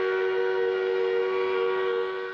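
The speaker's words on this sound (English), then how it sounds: "That mill whistle sounded almost a dozen times, signaling the mill's own fire brigade." A paper mill whistle at the Corner Brook mill gives one loud, steady, sustained tonal blast with rich harmonics. It holds an even pitch and fades slightly at the end.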